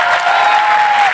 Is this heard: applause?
yes